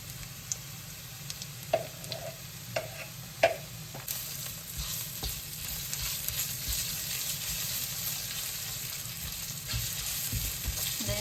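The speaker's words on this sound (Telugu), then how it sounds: "ముందు కొంచెం మగ్గిన తర్వాత ఇప్పుడు అల్లం పేస్ట్ వేసుకుంటున్నాం" Ginger paste frying in a pan for mutton curry gives a steady close sizzle, punctuated early by several distinct spatula taps and stirring knocks before settling into continuous frying.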